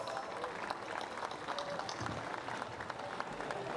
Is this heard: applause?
yes